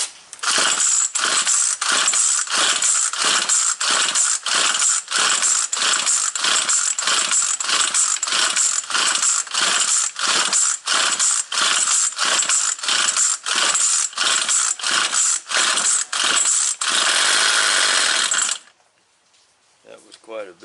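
A string trimmer's recoil starter is yanked over and over in a steady, rapid rhythm, each pull a loud rasping whir, for most of the clip before it stops and falls quiet; the trimmer is under carburetor repair and doesn't catch.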